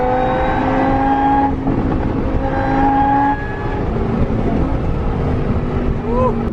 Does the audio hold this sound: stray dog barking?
no